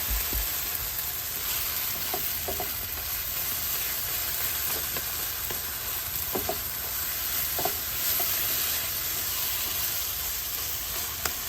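A pot of duck curry mixture with coconut milk sizzles steadily while a spoon stirs through it, giving a constant soft hiss with occasional scraping clicks, close and alone without talk.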